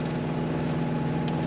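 A sailboat's small motor runs steadily at low speed while motoring down an estuary on the Northland coast of New Zealand, a continuous low hum that stays even throughout.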